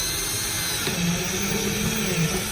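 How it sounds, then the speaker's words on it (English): A drill bores a 3/8 inch hole into a Dodge Charger spoiler for a rivet nut, a steady close whine holding for a couple of seconds with a slight pitch rise partway through. "we can drill our first hole and get our first riv nut in"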